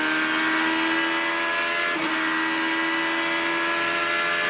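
Onboard an IndyCar racing at the 2010 Honda Indy 200 at Lexington, Ohio: a loud, steady high-pitched engine wail holds throughout, with a brief dip and pitch shift midway as the car shifts or lifts.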